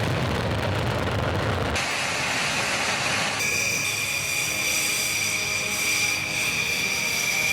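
A Rafale fighter jet flies with a loud, steady roar that cuts abruptly between segments. No one speaks.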